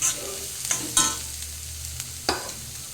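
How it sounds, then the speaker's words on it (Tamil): Carrots are stirred and sautéed in hot oil in a pan, with a constant sizzle under sharp, close scrapes and taps of the spoon every second or so. No one speaks. "கேரட்டை போட்டு கொஞ்சம் வேக விட்டு எண்ணெயிலே வதக்கி கிண்டி"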